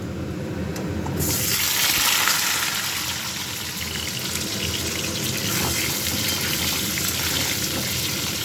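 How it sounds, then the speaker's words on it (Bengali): Potato pieces drop into hot oil in a kadai and set off a sudden loud, broad hissing sizzle that stays strong and steady after a quieter start, with no talking. "আলুটা ভেজে নেব, তারপর আলুর দমটা করব।"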